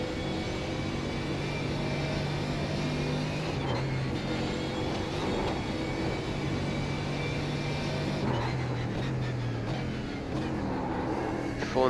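A Mercedes AMG GT3 race car engine held at full throttle in the iRacing simulator, a steady, loud droning roar with slight pitch shifts as the revs change across the run.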